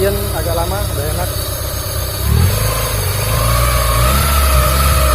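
A Honda Civic Genio engine, freshly assembled and being tuned for air-fuel ratio, idles and revs up close in a workshop, a loud continuous drone that rises in pitch, while people talk over it.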